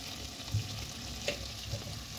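Cauliflower roast gravy with green chillies and a spoonful of ghee being stirred in the pan: a soft constant sizzle broken by a few faint spoon scrapes.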